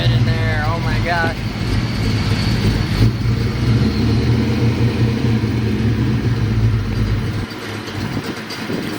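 Ford Mustang engine idling with a steady low rumble, heard close and continuous while people talk over it, dropping off near the end.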